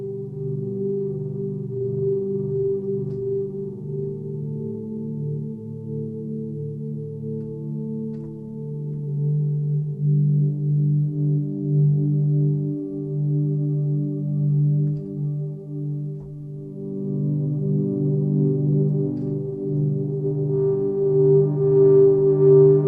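A sustained major-key synthesizer drone of layered warm tones with a slight edge of distortion, holding steady and swelling slightly over time, with faint higher overtones joining toward the end.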